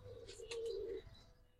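A silver Gola pigeon at a seller's gives one soft, close coo, a short rolling murmur that fades quickly into quiet.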